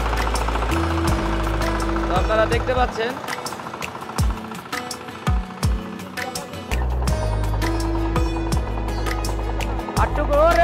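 A Mollik GN-121 12-15 HP diesel power tiller runs loudly with heavy rhythmic thumping and clattering impacts as it digs into the ground, revving and dropping at times while someone talks over it.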